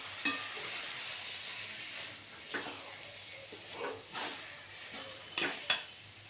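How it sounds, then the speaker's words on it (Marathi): A spatula works through smoky eggplant bharit with coriander in a pan, making soft, scattered scraping strokes and a few clinks over a quiet, low sizzle, fairly close and without speech. "चांगलं आता परत हलवून घेऊया।"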